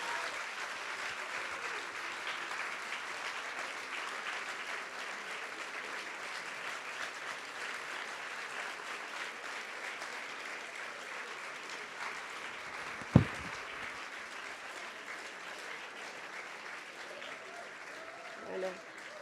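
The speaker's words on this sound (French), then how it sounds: "oui, on peut l'applaudir." An audience at a talk claps for a young conservatory performer, steady moderate applause filling the room with a sharp knock partway through.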